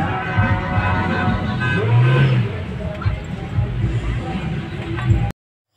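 Heavy road traffic during the opening of a local campaign period: car engines rumble and rev close by in a steady stream, with voices talking over the noise.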